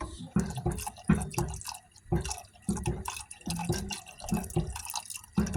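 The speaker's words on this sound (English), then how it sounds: "Now you can add some milk." Milk poured into a pot of Norwegian rice porridge, a liquid stream with uneven dripping and splashing pulses that come in bursts over a few seconds, fairly close and with no one talking.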